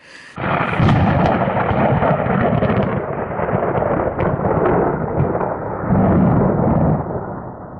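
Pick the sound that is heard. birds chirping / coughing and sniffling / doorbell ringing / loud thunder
loud thunder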